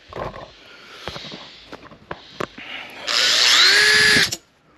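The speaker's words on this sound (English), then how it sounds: "now I just drill down through that hole there that I've just made with that drill bit" A power drill runs through wood in a loud, steady burst lasting about a second, preceded by scattered knocks and handling noises.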